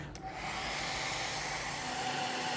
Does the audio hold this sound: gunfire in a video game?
no